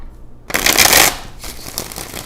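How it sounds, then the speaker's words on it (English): Deck of cards shuffled close to the microphone, one loud riffle of about half a second followed by softer ruffling. "There's all these damn shuffles."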